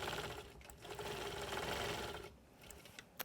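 A sewing machine stitches in the ditch along the seams of a log cabin quilt, running steadily and fairly loud for about two seconds, then stopping with a few faint clicks and taps.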